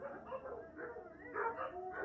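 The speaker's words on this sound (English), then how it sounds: "Can you hear the dogs are singing?" Several pet dogs howl and whine together in a drawn-out, wavering chorus indoors, the sound swelling louder toward the end, with no talk over it.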